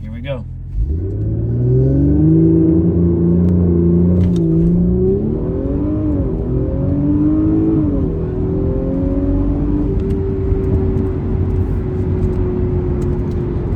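Audi S4 with an upgraded driveshaft pulls hard through a 0 to 60 run, its engine note climbing steadily and loudly from a near, continuous rumble into a rising drone, with a brief voice at the start.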